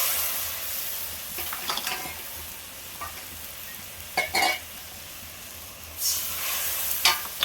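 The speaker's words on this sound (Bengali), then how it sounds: "দিয়ে আমি মশলাটা ভালো করে কষিয়ে নিয়ে তোমার দিকে আবারও শেয়ার করবো" Spice paste of salt, chili powder and turmeric fries in oil for a Katla fish curry. A loud, hissing sizzle runs throughout, cut by sharp scraping bursts from stirring, with no one talking.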